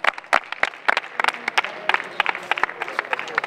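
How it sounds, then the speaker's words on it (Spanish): Scattered applause for the runners-up at an outdoor night doubles tennis tournament, a small crowd clapping in irregular sharp bursts that thin out over a few seconds. "Un aplauso para ellos."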